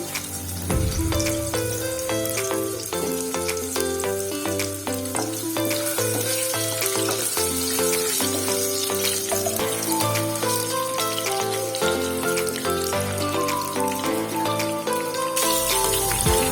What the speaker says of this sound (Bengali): আলুটা আমি একটু ভেজে নেব